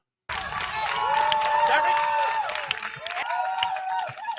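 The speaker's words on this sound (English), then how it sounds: "Now y'all want to cheer for her." A studio audience cheers and claps as a guest is brought out, a loud crowd roar that swells and stays strong, with voices talking over it.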